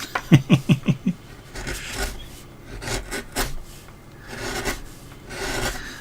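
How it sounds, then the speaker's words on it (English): Chisel carving through a block of wood, opening with a quick series of about six rhythmic rasping strokes, then slower scraping cuts in uneven bursts, close and fairly loud. "I love the sound of the chisel going through the wood"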